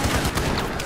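Rapid video-game gunfire from an online shooter, a dense fusillade of shots filling the moment, loud and close with no talk over it.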